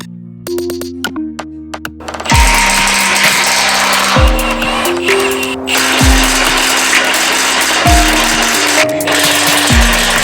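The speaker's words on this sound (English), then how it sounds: "So I used my impact wrench to get all 4 of those bolts removed" Pneumatic impact wrench on the rear axle bolts of a 1975 Chevy Blazer during restoration, firing several loud rattling bursts roughly every two seconds with a dropping whine after each, close up with no talk.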